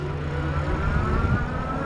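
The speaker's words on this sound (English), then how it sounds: "Maximum throttle." A $600 foldable electric bike, a 5TH Wheel Tide 2, runs at maximum throttle on a road. There is a steady whir from the motor along with wind and road noise, and no one talks.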